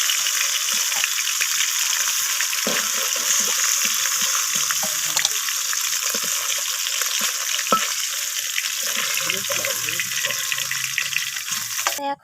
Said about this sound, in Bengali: তো এগুলোকেও একইভাবে আমি ভেজে নেব।